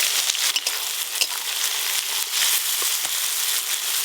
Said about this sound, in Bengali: পেঁয়াজ ভালো করে ভেজে নিয়েছি